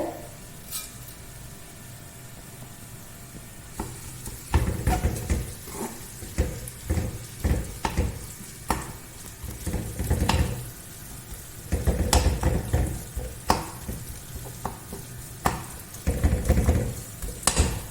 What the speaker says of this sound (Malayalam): നമുക്ക് വെളിച്ചെണ്ണ ഒഴിച്ചിട്ട് ഉള്ളിയൊക്കെ വാട്ടാനുണ്ട്, അതൊക്കെ വാട്ടാം.